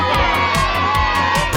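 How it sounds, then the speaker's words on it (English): Cartoon children shouting and cheering with excitement after a goal in a family backyard football game, a loud, continuous burst of high, excited voices with crowd-like whoops over a steady bed of sound. "Daddy Pig kicked the ball into the goal. Peppa and George shouted with excitement."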